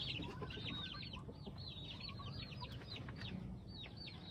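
Chicks peep in a dense, high chorus while chickens cluck underneath, a steady close flock sound with no voices over it.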